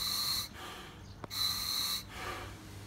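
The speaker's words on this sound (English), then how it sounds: "see me breathing on this regulator" Breathing through a scuba diving regulator: two hissing inhalations with a sharp high whistle, separated by softer exhalation sounds, close and clear without talk.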